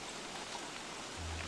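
Steady rain falls in the video game Don't Starve: Reign of Giants, a soft continuous hiss at low level with no breaks. A low hum joins near the end.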